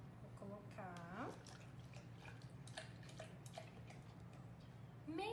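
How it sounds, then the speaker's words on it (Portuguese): Half a cup of milk is poured into a measuring cup, giving a short gurgling fill whose pitch rises as the cup fills, set against a low steady background hum. "Vou colocar agora meia xícara de leite."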